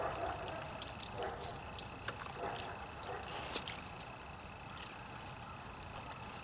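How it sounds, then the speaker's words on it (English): Clean water runs and splashes over a car battery during cleaning, a faint steady trickle with scattered drips and spatters, quiet and close. "The next step is just to rinse everything with clean water."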